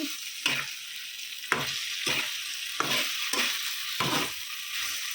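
Paneer frying in a pan with black cumin, chaat masala and roasted spice mix: a constant close sizzle broken by regular stirring scrapes roughly every second, with nobody speaking.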